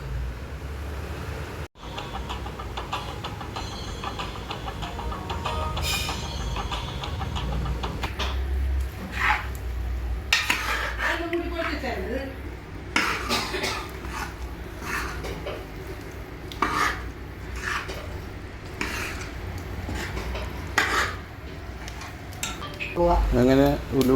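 Chopped raw mango for a pickle is stirred in a heavy uruli pot, giving repeated scraping and clinking knocks of a spoon against the metal over a steady background hum, with occasional brief talk.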